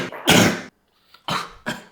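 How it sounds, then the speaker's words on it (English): A person sneezes while waiting on a COVID test: one loud, close burst followed by a pause and two shorter explosive bursts, with no talk. "I'm gonna sneeze."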